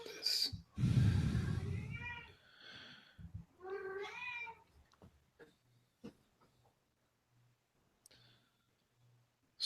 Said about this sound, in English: Oh, that was a cat?